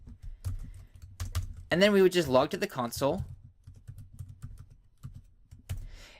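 A computer keyboard is typed on while coding a for-of loop, with scattered quick clicks of keys around and after a man's speech, close and fairly soft.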